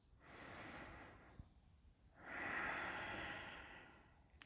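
Slow, deep breaths during a yoga core workout, drawn in and released twice in a steady rhythm with a pause between, close and soft with no talking.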